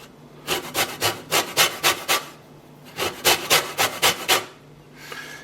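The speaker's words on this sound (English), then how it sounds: "Now I'm going to grate the entire romano" Romano cheese rasps against a grater in two quick runs of about eight evenly spaced strokes each, close and crisp, separated by a short pause.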